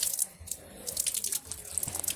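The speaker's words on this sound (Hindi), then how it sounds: "यहाँ पे एक पानी आ रहा है, वहाँ पे पानी भी लेती हूँ" Water runs from a public tap outdoors in a steady, light splashing stream, with scattered drips and a few brief clatters around it.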